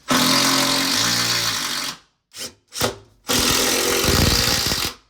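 A power drill unscrews screws from a wooden workbench top, whining loudly in two long bursts around a few short blips, close up with no talking.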